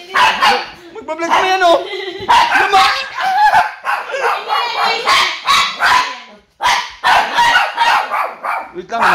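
A dog chasing someone barks and yips in short bursts, mixed in with a man's excited, near-continuous talking.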